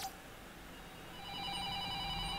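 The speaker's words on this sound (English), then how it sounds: "Oh, a phone call." A telephone rings in a video game, a faint repeated electronic bell tone coming in over a low steady background.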